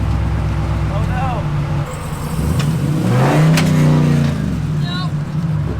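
Jeep crawling down a rocky trail, its drive shaft grinding and scraping over rock amid a steady engine drone that swells midway, with people talking nearby.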